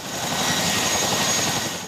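Defence Force evacuation helicopter lifting people out of a Victorian bushfire zone: steady, loud rotor and engine roar filling the whole clip, constant and close, with no voices.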